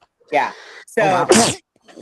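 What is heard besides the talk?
sneeze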